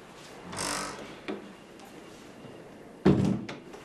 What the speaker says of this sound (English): Yes, close the door.